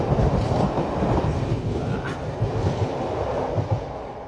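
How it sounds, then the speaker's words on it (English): A train rumbles past beside a city canal on a line running to the Kelvindale terminus, a steady, loud, close wheel roar with clickety-clack on the rails, holding level throughout with no talk. "is that train coming?"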